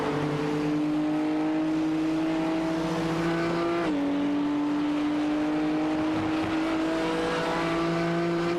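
GT series race cars battling on a circuit, one chasing a Mercedes: a sustained engine drone holds steady with a brief dip in pitch midway as the driver shifts, then climbs again, loud and continuous with no talk.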